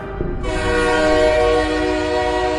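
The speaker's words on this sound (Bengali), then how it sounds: "হুইসেল বাজিয়ে ছুটে আসছে একটা দূরপাল্লার ট্রেন।" A long-distance train sounds a loud, sustained horn blast as it approaches, with rumbling rail noise beneath, close and alone.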